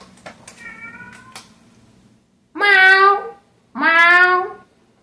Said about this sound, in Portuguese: Eu não quero ouvir você, gato.